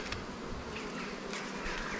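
Honeybees buzz at an opened beehive body during a honey super harvest, a dense, steady hum of many bees close by with occasional louder passes, and no talking.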